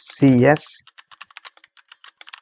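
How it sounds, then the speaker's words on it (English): A brief voice comes first, then a computer keyboard is typed on in a quick, irregular run of about a dozen crisp close keystrokes. "Now simply type this command"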